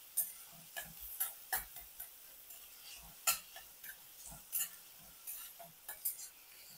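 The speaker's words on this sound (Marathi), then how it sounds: "इथे मी एक छोटा कांदा बारीक कापून घेतलेला आहे. तर आपण तो छान परतून घेऊया." Finely chopped onion sautéed in a pan and stirred, giving a quiet, uneven series of light scrapes and taps of the utensil against the pan over a faint low sizzle, with no talking.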